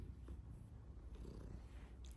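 A domestic cat purring softly at close range, a low continuous rumble that holds steady for about two seconds with no voices present.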